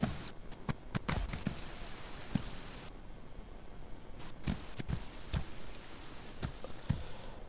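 Rain pouring in The Elder Scrolls Online during a thunderstorm, a steady hiss of falling water broken by sharp, irregular cracks and taps throughout.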